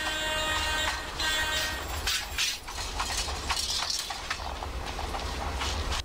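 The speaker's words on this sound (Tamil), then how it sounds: "ஸோ இப்போதைக்கு நம்ம ட்ரெயின் வந்து ஸ்பீடப் பண்ணலாம்." Express train accelerating in the Microsoft Train Simulator video game, a steady rolling rumble with rattling clicks and clinks of the railcars over the track, heard alone at a moderate level.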